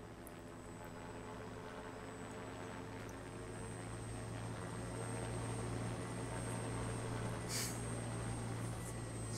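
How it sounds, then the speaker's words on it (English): A helicopter arrives in the video game Parasite Eve, a steady low rotor drone and rumble holding throughout and growing slightly louder, with no voices over it. "The helicopter's coming."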